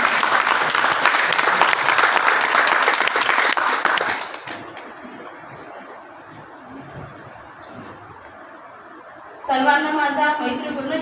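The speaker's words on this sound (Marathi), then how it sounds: "आपल्या टाळ्या अजून एकदा होऊन जाऊ" An audience at a camp gathering claps loudly for about four seconds, then the applause fades to a low murmur of the room before a voice begins speaking near the end.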